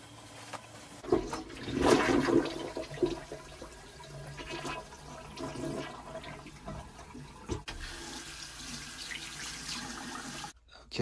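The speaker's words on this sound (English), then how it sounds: "for the first time in my adult life, I am purposely clogging up a toilet." A household toilet flushes while being deliberately clogged, a loud rushing surge of water that churns and gurgles steadily for several seconds before tapering into a lower trickle and cutting off abruptly near the end.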